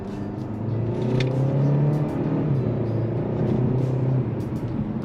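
A 2023 Kia K5 GT Line accelerates along a winding back road, its engine note climbing in a steady, loud whirring rumble that holds and then eases slightly near the end, with no talking.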